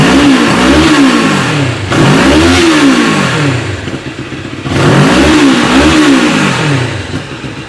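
Moto Morini X-Cape parallel twin motorcycle engine revved repeatedly, each rise and fall a shrill mid-high growl, loud and close, in three strong swells with no talk.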